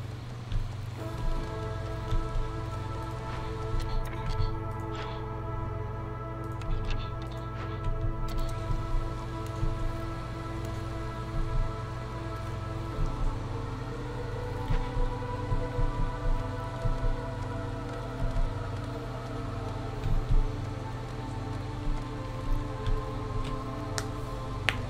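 Steady storm rain pattering on surfaces in the video game Against the Storm, a continuous wash with scattered drop ticks, layered over sustained game music tones throughout.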